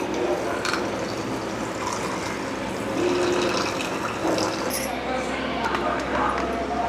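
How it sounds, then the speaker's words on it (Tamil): Water splashes and trickles steadily as it is poured over tamarind to soak for cooking, heard close up with a person talking over it. "கத்திரிக்காய்க்காக தண்ணி ஊற்றி ஊற வச்சிடலாம்."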